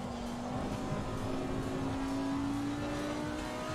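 Race cars in the video game Assetto Corsa Competizione, a steady engine whine at high revs holding a constant pitch with a second car's tone beneath, moderately loud and continuous, no talk.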